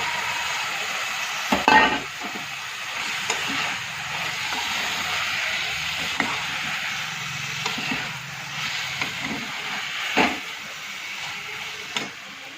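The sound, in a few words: onions and potatoes frying in oil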